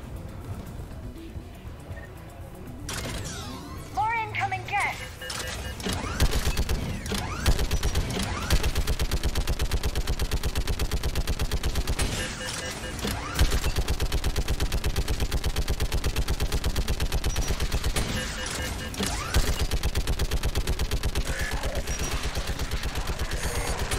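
A gas turret firing in Mass Effect 3 during the return to Rannoch: rapid, continuous automatic fire that grows louder and persists for long stretches with brief pauses, dominating the mix.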